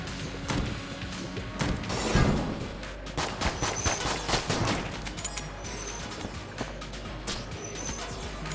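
Rapid gunfire from the video game Enter the Gungeon, a fast-firing gun shooting in quick bursts of sharp cracks and thuds, with impacts and short electronic chirps in between, fairly loud and without talk.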